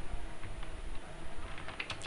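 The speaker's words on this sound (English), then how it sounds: "just type edit group policy like this" Soft clicking of keys on a computer keyboard while typing into the Windows 10 start search, quiet and irregular, growing a little sharper toward the end.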